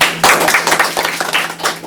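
Audience clapping at a Korean classroom-style presentation and debate on AI-created works: a burst of hand claps, loud and close, with a dense irregular patter that thins toward the end.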